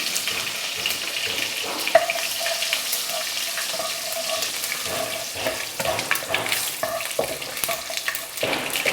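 Green chillies and curry leaves sizzle in a frying pan of oil while making upma, a steady close crackle with a few stirring clinks.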